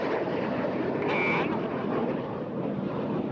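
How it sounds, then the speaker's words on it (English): Red Arrows jet aircraft performing a four-point hesitation roll at the Eastbourne Airshow 2023, a loud continuous roaring engine wash with wind buffeting that holds steady throughout. "Each aircraft now performing a 4-point hesitation roll."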